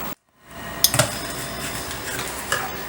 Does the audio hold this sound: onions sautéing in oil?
yes